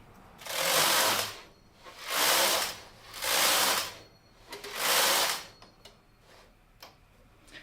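Taitexma knitting machine carriage sliding back and forth across the needle bed, four loud rasping whooshing passes with short gaps, followed by faint scattered clicks.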